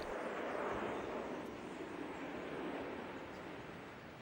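A passenger plane in flight to Kinshasa, Zaire, carrying a deportee under escort: a steady broadband cabin roar of engine and airflow, continuous and fairly loud, easing slightly toward the end, with no voices.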